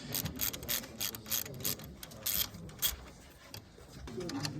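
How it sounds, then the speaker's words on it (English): A 13 mm wrench loosens the two bolts holding a disc brake caliper, giving repeated close ratcheting clicks and metallic scrapes in uneven bursts, with some faint background voice. "going to take a 13 millimeter and remove these two bolts that hold the caliper in place"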